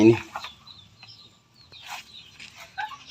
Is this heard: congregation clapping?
no